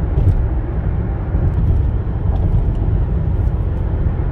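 A car cruising along Ohio's I-71 and I-76 interstate highways gives a steady, continuous low road and engine rumble with tire noise, even and unbroken from start to finish with no talking.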